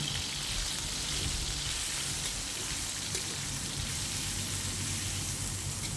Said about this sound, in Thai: น้ำมันเริ่มร้อนแล้วนะคะ เราก็ ใส่หมูลงไปก่อนนะคะ เราจะผัดหมูให้สุกก่อน